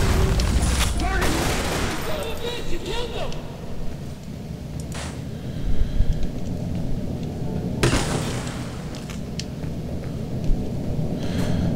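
A grenade blast in the first-person shooter game Underhell, a loud booming burst followed by rumbling and gunfire-like cracks amid continuous dense game noise, with a second heavy impact later.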